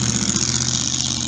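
A loud, steady engine drone from a truck and motorcycle, picked up by a camera's built-in scratch mic, a continuous close rumble with a faint pulsing texture and no talk.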